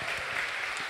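A short burst of audience applause at a live music show, a dense, moderately loud patter of many hands lasting under a second.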